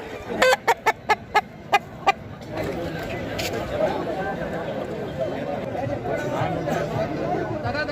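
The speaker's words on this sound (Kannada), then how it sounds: "ಎಲ್ಲ ರೈತರೆ ಒರ್ಜಿನಲ್ ನಾಟಿ ಕೋಳಿ ಮನೆ ಹತ್ರ ಸಾಕಿ ತರ್ತಾರೆ" Country chickens cluck and squawk amid a busy crowd's chatter, with a run of sharp clicking taps at the start, lively outdoor village market bustle.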